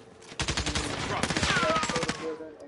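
Rapid bursts of automatic gunfire from Call of Duty on PS5 crackle in dense, overlapping volleys across the whole stretch, loud and close, with a few sharper single shots mixed in.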